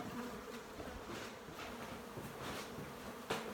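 Agitated honey bees swarm around a hive inside a house, a dense continuous buzzing drone that fills the scene at moderate loudness, with no talking.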